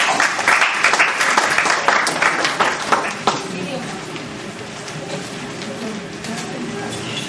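Loud applause from an audience welcoming a guest speaker, Brother Rony, at a Sathya Sai Baba gathering, dense and steady for about three seconds before thinning into scattered claps and room murmur.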